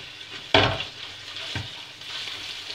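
Pepper paste frying in a pot while a spoon stirs it, giving a loud scrape-and-sizzle burst near the start, a second shorter stir stroke, then a steady close crackle of frying underneath.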